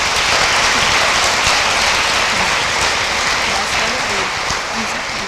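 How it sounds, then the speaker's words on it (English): Sustained applause from an audience at an eighth grade graduation fills the space, a dense, loud wash of clapping with a few voices mixed in. "A round of applause for Mrs. Hoff's class, please."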